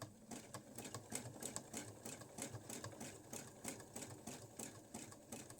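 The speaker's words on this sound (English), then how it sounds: "You're just going to sew over that there." A sewing machine stitches over coiled rope to build a rope bowl, its needle running in a fast, even mechanical rhythm, close and steady without pause.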